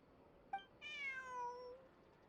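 One rising, drawn-out meow from a cat in a video game, clear and tonal, preceded by a short chirp against a faint hushed background.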